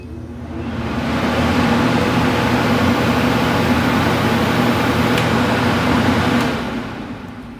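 A Bio3Blaster commercial ozone generator with its fan running, a steady loud whooshing hum with a low motor drone that ramps up, holds evenly for several seconds, then winds down.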